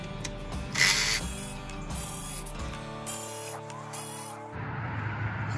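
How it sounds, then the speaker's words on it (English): A ratchet fitted with a 10 mm socket works loose bolts on a Mercury 150 EFI outboard motor, giving close, repeated clicking and metallic turning noises in uneven bursts, with no talking. "you're gonna use your 10 millimeter and you're gonna take these 4 bolts off"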